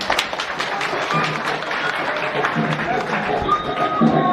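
Wedding guests at a civil ceremony in Garoua clap steadily for the parents, a dense stream of hand claps mixed with chatter and a few raised voices throughout.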